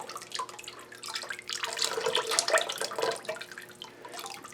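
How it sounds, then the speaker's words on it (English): Ceramic glaze is poured down over a mug, a close liquid splashing and trickling that swells in the middle and eases off again, with no talking. "I'm going to use the pouring technique to actually cover this mug completely"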